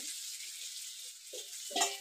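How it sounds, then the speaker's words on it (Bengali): Potatoes and taro frying in a pan of oil left over from frying fish, giving a soft, faint sizzle with brief scraping stirs and a louder spatter near the end. "কচু দিয়ে দিলাম, কচু ভাজানো আলুর সাথে"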